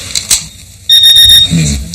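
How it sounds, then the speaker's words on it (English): An electronic alarm sounds from a bedside device in a luxury London hotel room, a steady high beeping tone that switches on partway through and holds loud and close after a few faint clicks. "Can we hear what alarm they make?"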